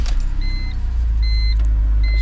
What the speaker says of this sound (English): We'll give it a fire up, and there should be no codes now.